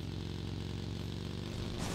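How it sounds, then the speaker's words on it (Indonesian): A motorcycle in the battle-royale mobile game PUBG Mobile runs with a faint, steady buzzing engine drone, with no voices over it. "Oh ini dia motornya."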